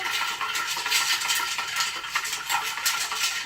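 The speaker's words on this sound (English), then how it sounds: "we're going to stir that up." A cocktail stirred in a coffeepot with a spoon, a quick light scraping and clinking of metal against the pot, continuous and fairly close with small irregular taps throughout.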